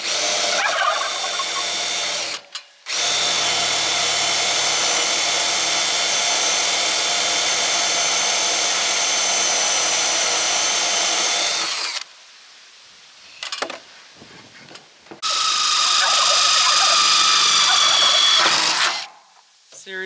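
Power drill boring pilot holes in wood for an off-grid greenhouse build, a loud steady whir running for about ten seconds, then stopping briefly and starting again for a shorter second burst.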